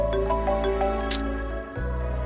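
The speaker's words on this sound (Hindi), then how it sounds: "सॉरी प्रताप, तुम्हें इस वक्त फोन करके डिस्टर्ब किया।" A phone ringtone plays a short, bright electronic melody of repeating notes, then cuts off abruptly near the end.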